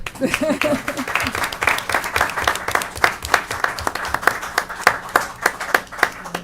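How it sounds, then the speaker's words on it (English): Applause from members of a city council during a meeting in Milledgeville: a burst of dense, sharp clapping that runs throughout, fairly close and loud, with some talk mixed in early on. "Council, clap on that one."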